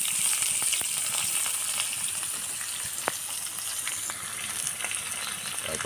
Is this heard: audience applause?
no